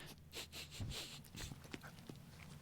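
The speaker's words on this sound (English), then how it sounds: "Did you hear her sniff the microphone?" A young dog sniffs and pants right up against a microphone, giving a run of close, breathy snorts and puffs at an irregular rhythm.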